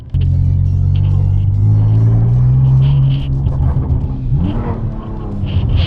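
A drifting car's engine rumbles loud and close, pitch rising and holding under revs, then dropping and climbing again as it accelerates, with a continuous heavy low drone throughout.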